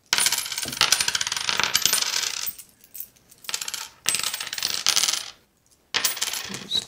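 Coins pour and clink in several loud bursts, rattling out of a 3 lb coin bag, with brief pauses between handfuls.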